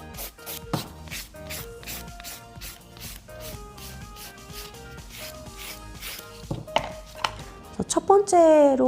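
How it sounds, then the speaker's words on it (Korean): A nail file works across the surface of a fingernail in quick, repeated scratchy strokes, close and fairly faint, with a steady back-and-forth rhythm. Denser rasping comes near the end. "다음 과정이 화일로 손톱 표면을 골고루"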